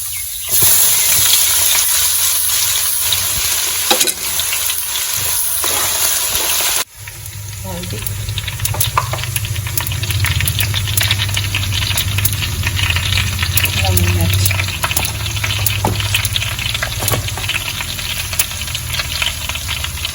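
Cumin, garlic and ginger hit hot mustard oil with a loud, dense sizzle and crackle. A sharp clatter comes partway through, then the frying carries on with a low rumble beneath and occasional stirring scrapes.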